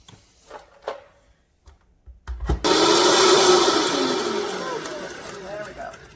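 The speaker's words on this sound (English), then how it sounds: "blend it up the best you can" After a few scattered clicks and handling noises, a blender kicks on to blend meat, settling into a loud, close, continuous whir that slowly eases off.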